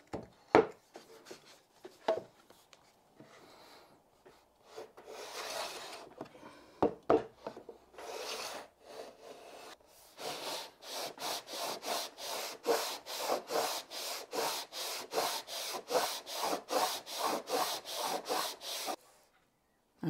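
A hand plane jointing the edge of a wooden board, starting with a few scattered strokes and then settling into a steady run of rhythmic, rasping passes, close and alone with no talk.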